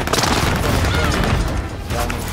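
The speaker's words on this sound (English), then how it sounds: "Enemy precision airstrike." An enemy precision airstrike in a video game hits as a loud, continuous blast of booms and crashing debris, up close and sustained for a couple of seconds.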